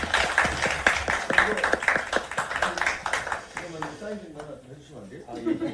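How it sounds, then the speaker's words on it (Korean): Audience clapping greets speakers arriving at a Korean National Assembly meeting, a steady burst of hand claps close by that thins out after about four seconds, with a voice talking over it. "그러면 큰 박수로 저희 모시겠습니다"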